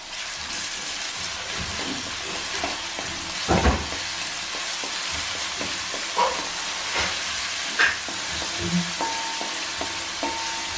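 Chopped shallots mixed with onion fry in hot oil for kuska rice, a steady sizzle throughout with occasional stirring clinks and scrapes of a spoon against the pan, close and moderately loud.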